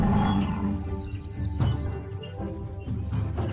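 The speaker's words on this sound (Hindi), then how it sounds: "सिम्बा दौड़ते दौड़ते दौड़ता दौड़ता भेड़िए के पास पहुंच जाता है और भेड़िए को पहाड़ी से धक्का दे देता है और फिर जोर से दहाड़ता है" Simba the lion lets out a loud, close roar that starts strong and trails off, followed by a couple of shorter rumbling growls, with no speech over it.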